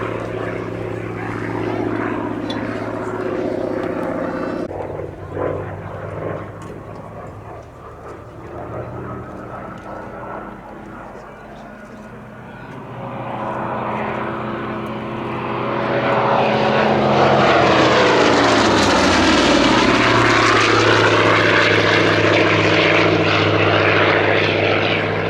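A Hawker Fury II with a 2,500 horsepower Bristol Centaurus 18 radial engine drones past at an airshow, with a deep propeller rumble that swells to a loud, close roar and a falling pitch as it passes; voices talk over it.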